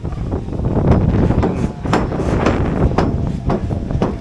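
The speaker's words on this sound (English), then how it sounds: "You hear the wind?" Wind buffets a microphone at an outdoor construction site where walls are going up, a loud continuous low roar and rumble with gusty surges and a few sharp knocks.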